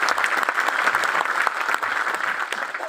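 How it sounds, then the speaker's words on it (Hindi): An audience claps steadily at a business seminar, a dense and continuous burst of applause lasting a few seconds. "एक जोरदार तालियां हो जाए"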